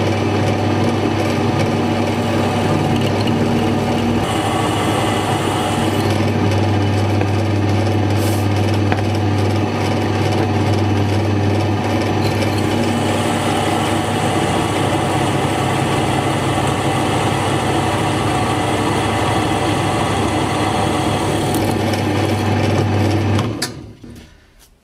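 A drill press countersinking a drilled hole in a workshop, a steady loud motor hum with metallic grinding running continuously for over twenty seconds before stopping abruptly at the end.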